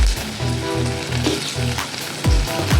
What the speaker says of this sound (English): Now I will fry the potato.